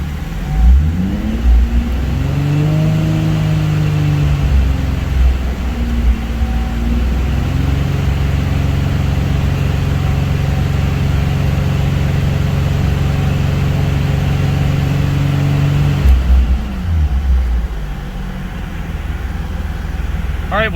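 A Nissan 350Z engine runs loud and close during a coolant system bleed, holding a steady drone with a couple of rev rises and falls near the start and a dip near the end.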